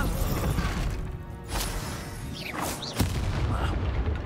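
Spell blasts from Hogwarts Legacy, the Confringo and Bombarda explosions, with several loud bursts and a sharp crack near the end over dense game combat noise.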